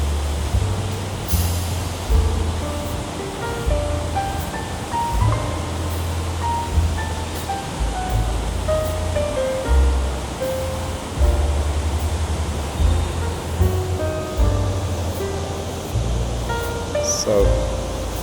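Water pours steadily over a canal waterfall in Business Bay, Dubai, at night as an abra boat passes, a continuous loud rushing wash with a low engine rumble beneath and someone talking over it.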